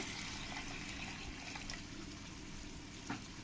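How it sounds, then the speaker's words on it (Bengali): Water goes into a cooking pan holding parwal (pointed gourd) and poppy seed masala, a steady broadband liquid rush and sizzle that holds evenly throughout, ending with a brief soft clink. "এরপরে আমি এর মধ্যে দিয়ে দেবো জল"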